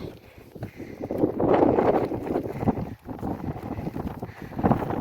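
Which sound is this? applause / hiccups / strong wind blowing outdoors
strong wind blowing outdoors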